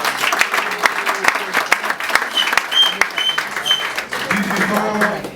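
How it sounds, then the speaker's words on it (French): Audience at a press conference and merit diploma ceremony breaking into applause, scattered claps rising over a voice that keeps talking, with a few bright tones near the end. "Ça mérite les applaudissements."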